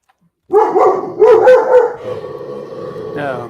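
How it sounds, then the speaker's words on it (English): Several dogs bark and yip close by in a short, loud burst after a moment of silence, the barks overlapping into a howling chorus. "I got dogs. It's a pleasure to hear their voices."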